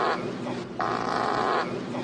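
A single fart from a golfer at the Travelers Championship, a loud, buzzy, sputtering burst of about two seconds with a wavering, duck-like quack quality.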